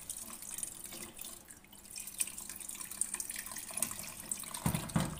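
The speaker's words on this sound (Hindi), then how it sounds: "मैं इतना पानी डालूँगी जिसमें ये सारी चीज़ें जो है वो अच्छी तरह डूब जाएं।" Water poured into a cooking pot of potato and meat curry, a continuous splashing trickle at moderate level with a few brief louder splashes near the end, no talking.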